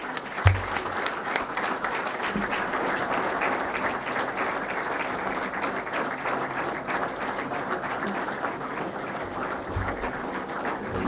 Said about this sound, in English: A big round of applause, students